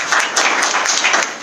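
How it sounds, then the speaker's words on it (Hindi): Audience at a business seminar bursts into applause, a short dense round of clapping from a crowd, loud and close. "उनके लिए भी एक जोरदार तालियां"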